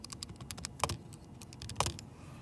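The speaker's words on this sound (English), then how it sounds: "I type that into my calculator" Keys tapped in a quick, light, irregular run, ending in a couple of firmer presses, as numbers are entered on a calculator; close and fairly quiet, with no voices.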